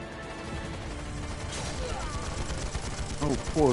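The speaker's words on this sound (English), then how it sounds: "Oh, gunfire." Gunfire in the video game Trails of Cold Steel III comes as rapid bursts and crackling shots over game music and effects, with a sharp sweep near the end.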